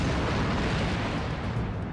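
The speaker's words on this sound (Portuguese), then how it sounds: "A força da explosão surpreendeu nossos técnicos do EMRTC." An aircraft fuel tank explodes in a test after being ignited by sparks, a loud, sustained booming roar that fills the whole clip with no speech.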